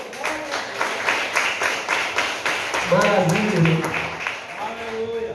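A church congregation gives rhythmic clapping at a mission base service, steady claps running throughout while someone speaks loudly over them.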